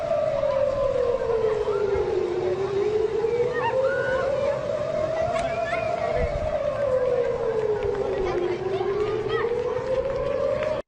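An air raid siren wails in slow rising and falling sweeps in Israel during a Houthi missile attack, loud and continuous, over a noisy background with some murmuring.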